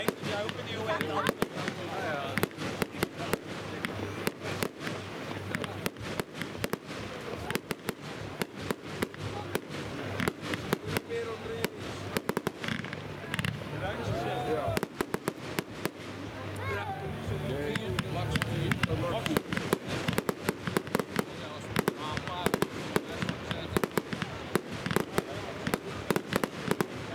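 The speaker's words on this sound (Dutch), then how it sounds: "Dit is vuurwerk wel." Fireworks crackle and pop in rapid, irregular bursts at a fireworks competition, with people talking underneath.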